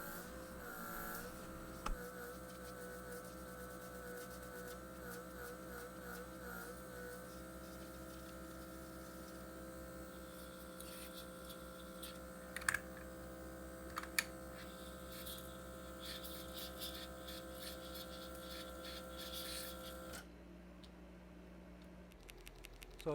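A small DC diaphragm pump pushes air through a thin hose, giving a steady, close mechanical hum with a few faint clicks and handling taps before it shuts off near the end.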